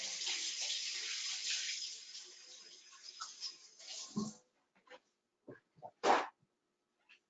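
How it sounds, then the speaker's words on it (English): Water from a kitchen tap runs steadily over hands being rinsed clean of cream cheese, then shuts off, leaving a few scattered drips and small splashes at close range. "I'm just gonna rinse my hands off really quick because I'm covered in cream cheese."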